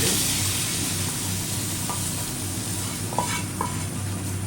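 Garlic tempering dropped into hot oil for a bottle gourd leaf and potato curry, a loud continuous sizzle with a few light stirring clinks, close and steady, no speech.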